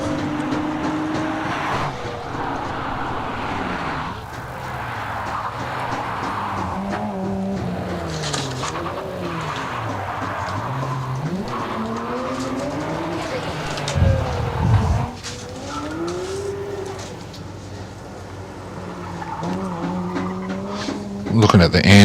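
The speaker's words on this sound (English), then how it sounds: "Looking at the Andrew Campbell Nissan GTR now, crossing the line." Nissan GTR race car at the Legend of the Lakes hillclimb in Australia, engine revving and rising and falling through gear changes with tyre squeal, loud and close, under continuous commentary.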